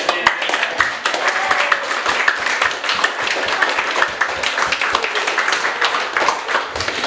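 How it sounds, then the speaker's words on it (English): Audience applause for participants in a think tank event, close and fairly loud, with distinct individual claps standing out over a busy, irregular patter of many hands. "let's give a big round of applause for everybody participating"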